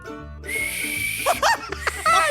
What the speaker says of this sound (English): So this is my best attempt at a whistle.